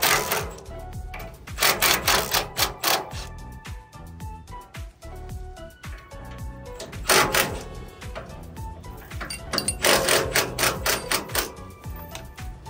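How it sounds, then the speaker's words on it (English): A pneumatic impact wrench loosening four bolts on a Toyota 5th-gen 4Runner KDSS system, several loud rattling bursts separated by short pauses, close up with no talking. "Gonna loosen those four bolts."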